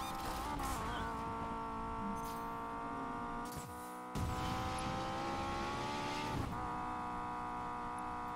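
A Honda S2000 engine in Need for Speed Payback, a loud steady revving drone with pitch rising and falling through gear changes, a brief dip midway, and some tire squeal.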